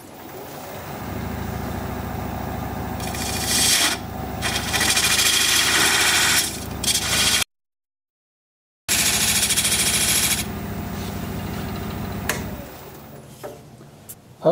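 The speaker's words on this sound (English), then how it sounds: "I'm going to take this diamond point tool and square up the sides of the tenon" Diamond point tool squaring the sides of a tenon on a wood lathe: a loud, steady rough cutting roar with rising scraping bursts, broken by a brief silent gap, then resuming before tapering off, no talk.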